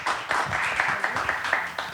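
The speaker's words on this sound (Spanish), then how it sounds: "démosle otro aplauso a nuestros invitados" A conference audience gives its guests a short burst of dense, steady applause, fairly close and filling the whole moment.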